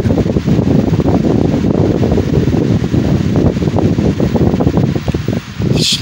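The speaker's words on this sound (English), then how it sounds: "Just love the sound of these Patton fans." A Patton U21887 18-inch air circulator fan running on its low setting gives a steady, close rushing whoosh of moving air with soft fluttering throughout, no voices.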